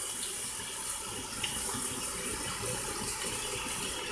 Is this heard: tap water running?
yes